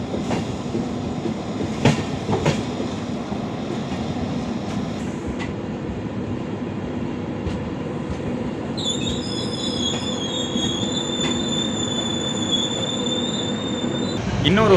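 Inside a diesel-hauled Vistadome train on a single-track line between Yesvanthpur and Mangalore, a steady rolling rumble is heard, with high wheel squeal rising partway through and growing slightly louder near the end.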